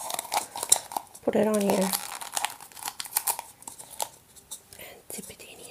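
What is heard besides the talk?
crumpling something to prop an acrylic pour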